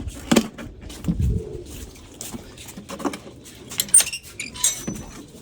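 Pigeons coo softly inside their coop, scattered low calls mixed with faint rustling and small knocks, fairly quiet and close.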